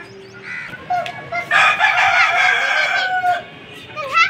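A rooster crows loudly near a farmyard with ducks and chickens, a long drawn-out call over scattered clucking and other bird sounds close by.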